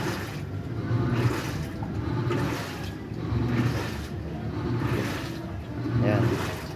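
A Samsung automatic washing machine churns in slow repeating surges, water sloshing and motor whirring in rhythmic cycles.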